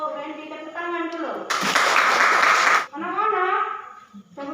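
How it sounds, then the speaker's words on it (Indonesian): Children in a primary school classroom clap together in a short, dense burst of about a second, set between stretches of a teacher's voice and students speaking. "Tepuk tangan dulu"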